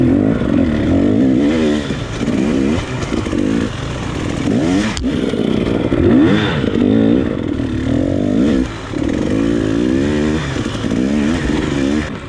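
An enduro motorcycle engine revs hard and continuously while climbing a rocky line at the Corduroy Enduro, loud and close, with throttle surges and clattering over the rocks.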